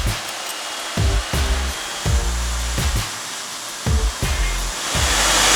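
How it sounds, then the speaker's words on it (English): A hair blow dryer blows hot air into a wet sock pulled over its nozzle, a steady loud whooshing hiss broken by repeated brief low thumps and flutters as the fabric shifts. "all you need is a blow dryer"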